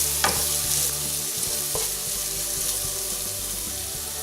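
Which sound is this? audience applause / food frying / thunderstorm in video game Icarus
food frying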